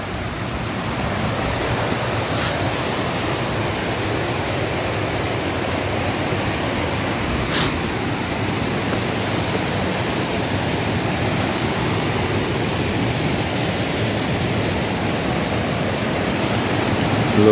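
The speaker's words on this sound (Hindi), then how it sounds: "लो भाई हम झरने के नज़दीक पहुंच गए हैं।" A waterfall roars nearby as a dense, steady rush of falling water, loud and unbroken throughout with no voices over it.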